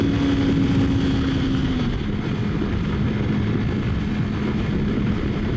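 Kawasaki Versys X 300 motorcycle engine pulling hard up a steep hill, a steady loud drone with a pitch that holds high, then drops slightly and levels as it climbs, with wind rush over it.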